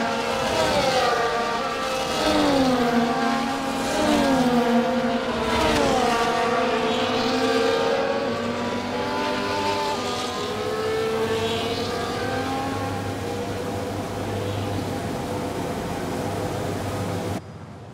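F1 race cars idle and rev on the starting grid at the Japanese Grand Prix in the F1 24 video game, a loud continuous engine drone with rising and falling whines from several cars layered together.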